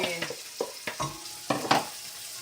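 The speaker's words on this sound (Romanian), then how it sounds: "Acum dinstuim puțin ceapa." Onion sautéing in a pan for a quick home meal: light sizzling runs under a few clattering stirs and scrapes of a utensil, close up and moderately loud, without any speech.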